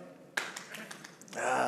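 A live literary festival audience claps briefly to vote, a short scattered patter of hands that stops, followed by rising crowd murmur and talk.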